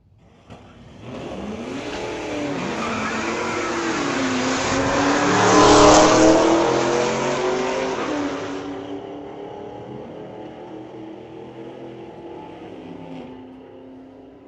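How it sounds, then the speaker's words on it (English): A Chevy Blazer drag racing down the strip at Mission Raceway Park, hitting 104 mph. Its engine revs hard and shifts through the gears, swelling to a loud peak before fading into the distance, with no talk. "Nice sounding little Chevy, little Blazer doing 104 miles an hour"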